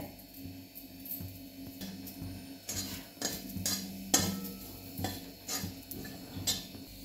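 Grated coconut dry-roasting in a pan, with clinks and scrapes of a spatula stirring against the metal at an uneven pace over a low background hum.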